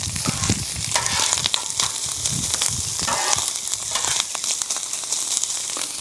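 Corned beef sizzles and fries on a hot griddle, a steady crackling hiss with scattered pops and scraping stirs, close and loud with no talking.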